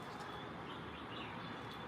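Birds chirp softly outdoors among trees and mountains on an overcast day, a faint steady chorus spread through a continuous wash of ambient background noise, with no talking.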